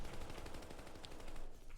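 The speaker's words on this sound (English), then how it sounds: "This is a Thompson submachine gun." Sustained rapid automatic gunfire from a Thompson submachine gun loaded with .45 ACP in the video game Call of Duty: Vanguard beta, a dense continuous burst running the whole time, loud and close with no pauses.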